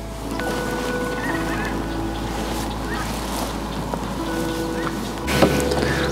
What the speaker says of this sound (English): What kind of birds are those, Father? Looks like a crane.